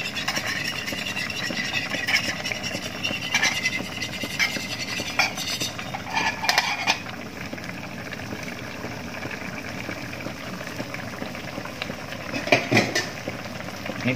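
Egg poured in and swirled into simmering banana blossom soup made without coconut milk, with soft bubbling and a few light clinks of a utensil against the pot, steady and close.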